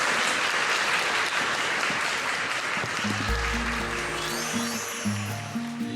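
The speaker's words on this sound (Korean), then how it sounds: "큰 박수 부탁드립니다" An audience applauds to welcome an author before a talk, a dense sustained clapping that fills the room and tapers off, with a low tone rising beneath it near the end.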